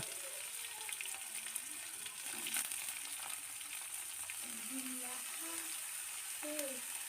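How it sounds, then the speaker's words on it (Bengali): Flat beans and eggplant frying in hot oil with a steady, continuous sizzle and crackle that holds at an even level throughout. "ছিম বেগুনটাকে তেলের মধ্যে একটু ভেজে নেব"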